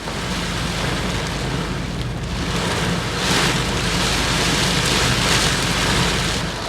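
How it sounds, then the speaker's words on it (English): A heavy rain shower pours down in a dense, steady roar of close drops hitting surfaces, swelling slightly louder partway through, with no one talking. "We got a surprise shower. Well, we knew it was going to rain, but man, it was heavy"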